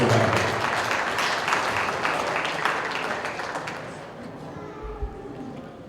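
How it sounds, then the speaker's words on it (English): Audience applause at a cattle show heifer ring, a broad wash of clapping that gradually fades, with a brief low thump near the end. "Let's give her a big round of applause."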